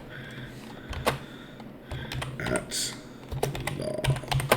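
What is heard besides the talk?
typing text on a computer keyboard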